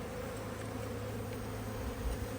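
A steady, dense hum of many honey bees from a newly installed package buzzing close by, continuous and low without pause.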